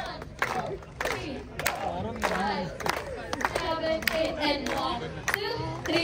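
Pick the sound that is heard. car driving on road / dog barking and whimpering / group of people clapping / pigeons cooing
group of people clapping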